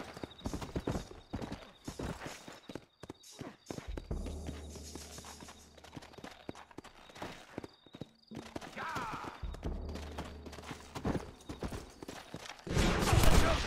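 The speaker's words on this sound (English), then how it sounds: "Looks like Carlos left us some horses" Red Dead Redemption video game: rapid hooves clatter and pound in quick rhythm, close and loud, with a horse whinnying and gunshot-like cracks mixed in.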